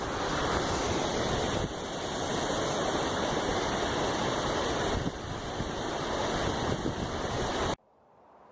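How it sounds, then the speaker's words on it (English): A big waterfall near a campsite roars as a dense, steady rush of falling water, loud and continuous, before cutting off abruptly near the end. "big waterfall on that side"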